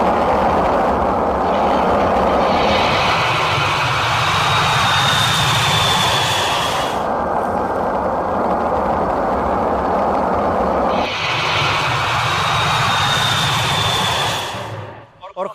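Jet engines of a B-52 bomber roar loud and close in a broad, continuous wash with a high whine, dipping briefly midway before surging again and cutting off at the end.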